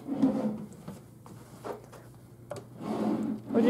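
Wooden hotel room drawers slide open and shut with low rubbing scrapes and soft knocks, a few movements close by in a quiet room.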